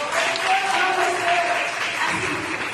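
Congregation clapping during a Portuguese-language church celebration service, a steady dense wash of applause lasting throughout, with voices mixed in.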